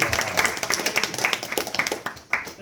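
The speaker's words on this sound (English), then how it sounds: "Please give a round of applause to" Audience applause during a Bhakti Vriksha gathering on the Bhagavad Gita, a moderate, uneven patter of clapping hands with sharper individual claps standing out, continuing steadily for a few seconds.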